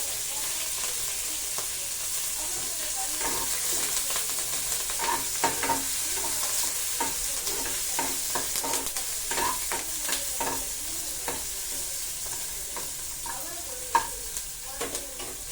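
Onions and curry leaves frying in a pan with a little rock salt, for a fresh cowpea stir-fry: a steady close sizzle with frequent scraping, stirring clicks scattered throughout, and no voices.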